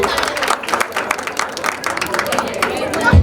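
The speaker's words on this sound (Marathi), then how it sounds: "तर जोरदार टाळ्या झाल्या पाहिजे स्वाती आणि रामायणीसाठी" Clapping and crowd cheering at an engagement and sangeet celebration for Swati and Ramayani, a dense, steady wash of many hands with chatter mixed in throughout.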